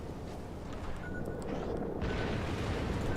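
Torpedo hits in a naval battle video game, a dense rumbling blast layered over constant low engine and combat din, swelling louder and heavier toward the end without a clean single boom.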